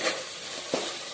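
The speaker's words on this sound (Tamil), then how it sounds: "காளான் மசாலா கூட சேர்ந்து நல்லா வதங்கிட்டு இருக்கு" Mushroom masala with turmeric, biryani masala and coriander powder being sautéed in a pan, giving a steady soft sizzle with a couple of brief stirring scrapes, close and fairly quiet.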